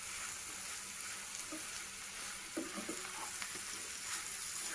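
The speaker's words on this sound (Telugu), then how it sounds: "ఒకసారి మంచిగా కలిపేసుకుందాము" Egg curry with goruchikkudu (cluster beans) frying in a pan and being stirred after coriander and curry leaves go in, a steady close sizzle with occasional scraping stirs.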